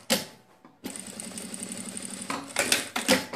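A sewing machine runs in one steady, loud burst of rapid stitching around the edge of a sack-style bag, with short handling clicks and rustles before and after it.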